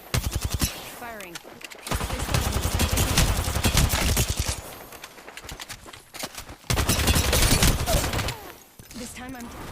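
Sustained automatic gunfire in an aim-trainer game, loud and dense, running in long bursts with short breaks between them, with a voice speaking over parts of it.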